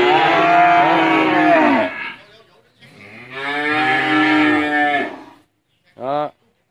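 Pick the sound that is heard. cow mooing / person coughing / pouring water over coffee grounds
cow mooing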